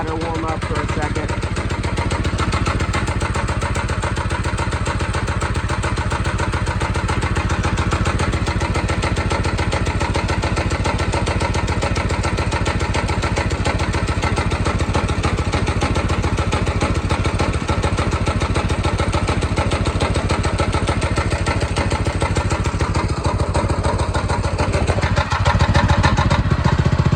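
A go-kart engine idles steadily while warming up, a loud continuous close rumble with a slight rev change near the end and no voices.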